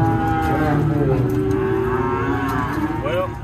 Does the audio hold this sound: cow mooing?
yes